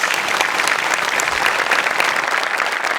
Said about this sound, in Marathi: त्यांच्याकरता आपण एकदा टाळ्या वाजवूया.